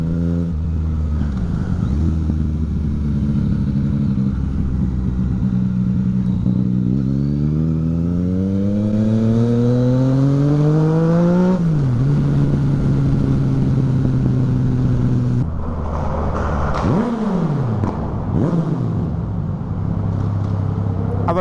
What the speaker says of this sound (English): all of those backfires, enjoy them, people, enjoy them